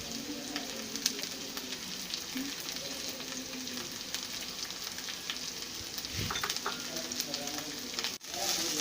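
Two evenly chopped ingredients frying in oil in a pan for white sauce pasta, a steady soft sizzle throughout with occasional stirring scrapes and a brief clatter near the end.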